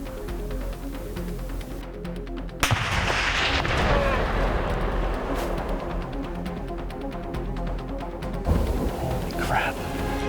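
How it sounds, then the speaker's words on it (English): A single distant rifle shot rings out across open Colorado hunting country aimed at a cinnamon-phase black bear, a sharp boom with a rolling echo under wind noise, followed later by a fainter second report. "He just shot at that cinnamon bear"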